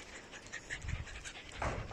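A rescued puppy in a new kennel pants and whines softly, quick breathy panting with small whimpers, faint and close in a quiet room.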